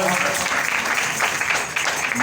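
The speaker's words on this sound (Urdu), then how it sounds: "اس کی موجودگی کے لیے زوردار تالیاں بجائیں" A church congregation clapping loudly in worship, a brief burst of rhythmic applause mixed with voices calling out.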